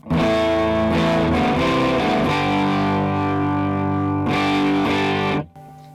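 An electric guitar driven into heavy distortion by a boost pedal into a G3 Atom, loud sustained chords ringing with a few fresh strums before cutting off abruptly near the end.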